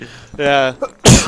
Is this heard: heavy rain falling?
no